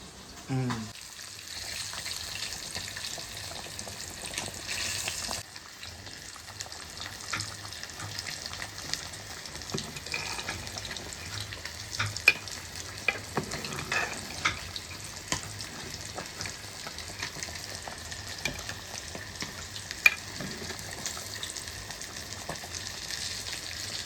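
Crumbled fish puttu cooks in a pan over a steady, close sizzling hiss, with occasional soft scrapes and clicks from stirring throughout.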